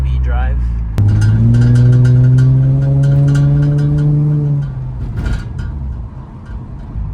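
Nissan 350Z with an ISR Performance Y-pipe and catback exhaust, driven and heard from inside on the way to a car meet: a loud, sustained engine drone that rises in pitch under acceleration for several seconds, then drops off as the car settles.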